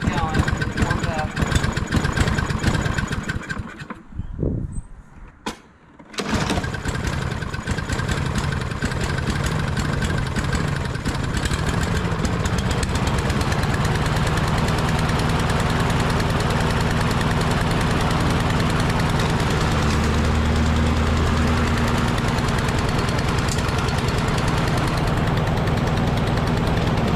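A push mower engine, its carburetor freshly cleaned, runs at a steady loud idle, dropping out briefly near the start and then continuing with a low rough drone; a voice talks over it at times.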